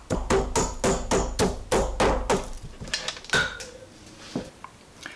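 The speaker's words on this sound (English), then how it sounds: "we're going to crush them all using my pestle here. We'll apply force in grinding this one." Pestle pounding adobo ingredients for paleo herring fish adobo, about a dozen close, loud, rhythmic thuds in a steady beat that slow and thin out toward the end.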